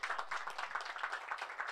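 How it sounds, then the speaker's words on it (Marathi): An audience claps at the prize ceremony of the Bhatibander Premier League 2022 in Virar: a brisk, continuous patter of many hands, loud and close, lasting under two seconds. "तर एकदा जोरदार वैभव पाटीलसाठी टाळ्या वाजवायच्या आहेत"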